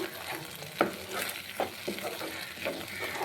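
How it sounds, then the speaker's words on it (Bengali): Spice paste of ground cashew and poppy seed fries in a pan for a Bengali dhokar dalna, with a steady sizzle broken by several scraping stirs of a spoon against the pan. "মশলাটাকে আমি একটু ভেজে নেব।"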